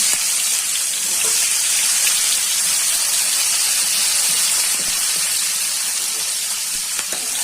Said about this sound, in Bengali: এখন পেঁয়াজগুলা গরম করে দিয়ে দিচ্ছি